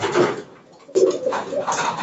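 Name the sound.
young pigeons cooing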